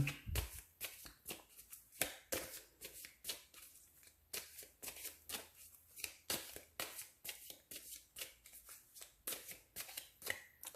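Oracle cards are shuffled by hand for a reading, producing quick rhythmic bursts of riffling and slapping, close and clear, repeating steadily with no talk.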